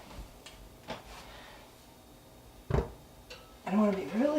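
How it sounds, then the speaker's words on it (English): Homemade sprouted wheat bread going into a home oven: a few soft clicks and one sharper thump of the rack or door, then a voice talking near the end. "Putting it in the oven."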